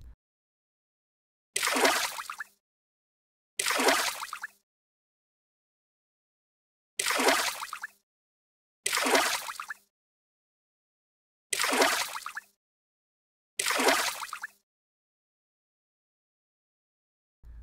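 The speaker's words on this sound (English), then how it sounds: "Three fish are in the tank. Then six more fish swim in." Six separate bursts of water splashing and sloshing in a tank, each about a second long, spaced by silent gaps and heard close and clear.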